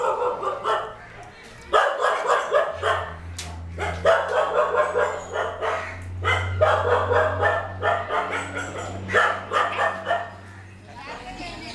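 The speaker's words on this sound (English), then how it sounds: "the workers started to feed the dogs" Many dogs at an animal shelter bark repeatedly at feeding time, a dense, loud chorus of overlapping barks and yips with a steady low hum beneath, continuing almost without pause.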